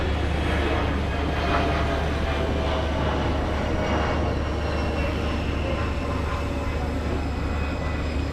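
A Long Island Rail Road train led by DM30AC locomotive 501 with twelve cars stands at Westhampton, producing a loud, steady, droning engine rumble throughout.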